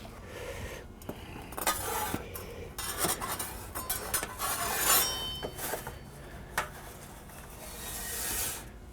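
A homemade pizza being worked out of an air fryer basket with utensils, giving scraping, rubbing and clinking metal sounds in irregular bursts, close and fairly quiet, with no talking.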